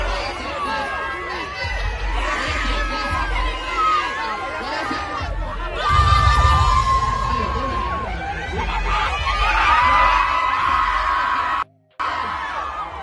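A large concert crowd at a dancehall performance roars and cheers steadily, with whoops and screams rising through a dense, loud wall of babble that swells midway and cuts out briefly near the end.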